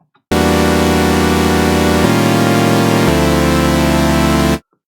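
A single synthesizer saw wave without unison plays three sustained notes in succession, bright and buzzy with a thin, static edge, each held loudly with no pause and then cut off cleanly.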